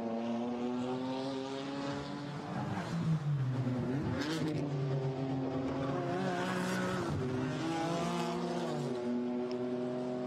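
A GT4 Europe race car accelerates downhill at Imola during 2020 qualifying, its engine note climbing and dropping through gear changes in clear harmonic sweeps. The car is heard at moderate distance without commentary.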